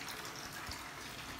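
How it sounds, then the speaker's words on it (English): Water from a hose attachment on a kitchen sink pours into a bucket, a steady, close rushing stream without any talking. "I'm filling up my bucket, getting all the water that I need without making a mess."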